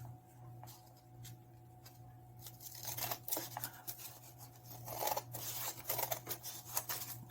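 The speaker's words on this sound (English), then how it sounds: "I think I'm going to cut a little bit off of each side of this to start" Scissors snipping through material for a leather and lace junk journal, close up, with sparse cuts at first and then a busier run of repeated snips.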